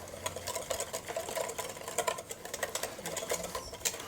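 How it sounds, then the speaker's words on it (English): Buttermilk and spices are whisked in a bowl, a quiet, rapid, rhythmic clicking and scraping that continues steadily, heard close and alone. "And then I whisk this together,"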